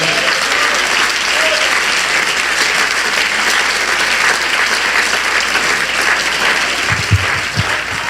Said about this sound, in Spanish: Dele ese aplauso al Señor Jesús, por favor.